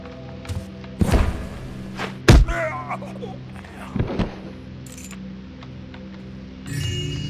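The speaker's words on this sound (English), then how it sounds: "Flash bomb." A flash bomb in the video game Thief: The Dark Project, a sharp bursting thud followed by a brief crackling hiss, with a few further thumps and clatters before the scene settles over a low ambient hum.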